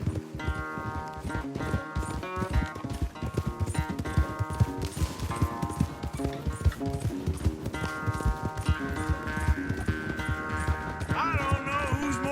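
Horse galloping in Red Dead Redemption 2 during a race, steady rapid hoofbeats running throughout under a musical score, with no voices.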